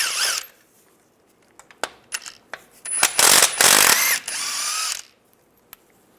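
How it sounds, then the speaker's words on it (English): A ratchet with an 18mm socket removing bolts on a 2007-2013 Chevy Silverado: scattered sharp clicks, then a close, loud buzzing burst of rapid ratcheting for about two seconds, and a final click. "Now there's two bolts on this side, use an 18mm socket"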